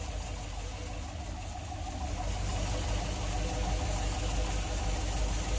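An engine idles steadily while still warming up, a continuous low rumble with a dense broadband hum, fairly loud and unbroken throughout with no talking.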